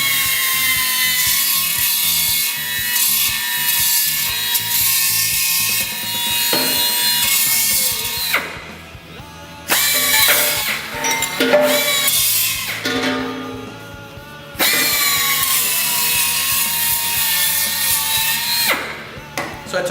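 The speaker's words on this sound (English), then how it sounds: "So I took my time with the Dynafile and I just went around until I got close to that Sharpie mark" Dynafile die grinder cutting thin sheet metal for a brass gas cap install, a loud continuous high grinding rasp that drops out briefly in places and resumes, close up.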